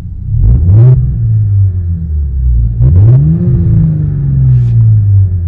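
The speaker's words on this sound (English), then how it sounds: "You can always really hear the valve is open, and the exhaust is much louder." An Audi S5 B9 with an iPE exhaust, valve open, rumbles loud and close and revs twice, each rev rising in pitch before easing back into a deep, throaty idle.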